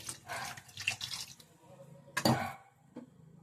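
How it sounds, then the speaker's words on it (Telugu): A little water is poured into a cooking pan of ridge gourd and country chicken, a faint, brief splash and trickle with a light clink of metal near the end. "దీంట్లోకి మనం కొద్దిగా వాటర్ కూడా పోసుకుందాం"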